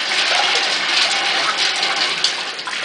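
Water gushes and drains loudly in a sink while soaked garbanzo beans are washed and their soaking water is changed, making a continuous close rushing sound with slight surges.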